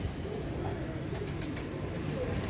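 A pigeon, from fancy Feroz Puri and Saadna stock, gives low, soft cooing murmurs close by over a dull background hum, with faint talk nearby.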